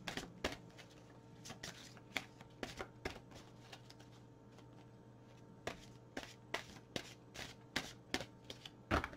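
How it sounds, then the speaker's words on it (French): Oracle cards being shuffled and drawn by hand, with a close, quiet sequence of sharp riffles and taps in uneven clusters, alone without any voices. "je vais tirer 3 cartes conseil"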